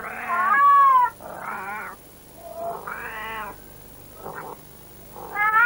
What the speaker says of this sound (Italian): I primi segni del calore sono i richiami emessi dalla gatta, normalmente furtiva e silenziosa.